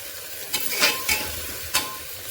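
Ginger garlic paste frying in a pan, a close hissing sizzle broken by several brisk stirring scrapes, loud and short.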